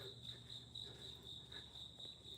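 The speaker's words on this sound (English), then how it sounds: "Yeah, you hear crickets here." Steady, high chirping of crickets outdoors, a continuous faint insect trill with no voices over it.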